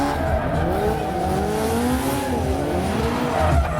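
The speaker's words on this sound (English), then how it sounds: "Looks like you do a couple donuts around." A small car spins donuts at a Riyadh auto show, tires skidding and squealing in long wavering tones over a steady loud engine drone, continuous throughout with crowd noise beneath.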